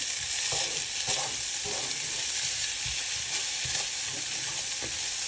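Chilli, ginger and garlic fry in a pan with a dense, continuous hiss and crackle, while soft knocks of stirring land every second or so.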